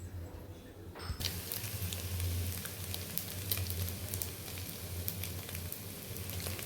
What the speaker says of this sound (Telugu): ఆయిల్ వేడెక్కిందండి. ఇప్పుడు 3 గుడ్లు వేస్తున్నా